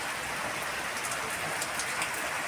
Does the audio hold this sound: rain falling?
yes